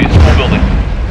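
A rocket blast in Call of Duty: Modern Warfare II booms loud and close, a heavy low rumble that rolls on for about a second, with shouting voices mixed in amid the battle.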